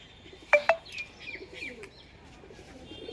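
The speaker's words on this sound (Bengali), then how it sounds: "এই হচ্ছে ঝন্টু ভাইয়ের পায়রা দেখুন পায়রাটা বাজিটা শখ করুন কত সুন্দর বাজি" Pigeons kept as tumbler (bazi) pigeons give a couple of brief close coos and chirps, with faint bird calls continuing softly behind.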